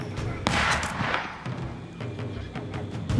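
Gunpowder units fire volleys in Age of Empires IV, with dense repeated cracks and booms from a battle between Mongol forces and defenders at Zhongdu, a sharp loud burst early on followed by scattered shots through continuous battle noise.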